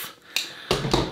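A blade slices through tape while a Fisher Space Pen is being repaired: two or three quick, close, crisp ripping strokes with short gaps between them and no talk.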